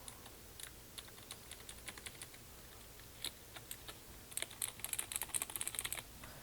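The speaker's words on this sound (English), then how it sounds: "mechanical keyboard. And it's Cherry MX Blue." Typing on a mechanical keyboard with Cherry MX Blue switches, heard close up. Scattered single clicky keystrokes build into a faster, denser run of crisp clicks toward the end, with no talking.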